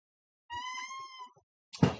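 A single clear cat meow, close and fairly loud, lasting just under a second, followed after a short pause by a brief rustling thump.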